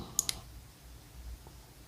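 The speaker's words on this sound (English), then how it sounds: "we'll just snip that" Two quick close snips of scissors cutting thread while tying a caddis dry fly, sharp and faint at the start, followed by quiet room tone.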